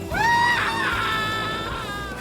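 A single long human scream from the video game 007 Legends rises quickly, then holds shrill and loud before slowly fading over about two seconds.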